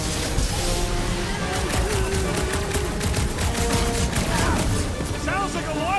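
Dense, continuous bursts of rapid gunfire and explosions fill a Guardians of the Galaxy game scene, loud and chaotic, with voices talking over the barrage.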